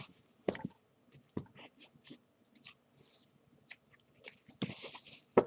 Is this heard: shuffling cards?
yes